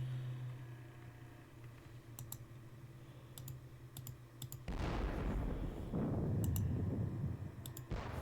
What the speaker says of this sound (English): let's do the artillery